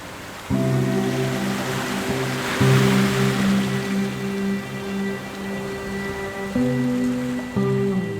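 Sea waves wash in at high tide on a beach at Saint Martin Island, a steady loud surf roar with a constant droning hum running beneath it and no voices.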